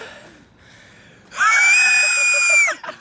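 A person lets out one long, loud, high-pitched scream that holds steady for over a second before breaking off, following a few quieter breathy sounds.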